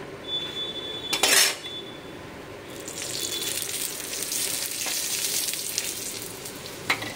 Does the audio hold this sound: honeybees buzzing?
no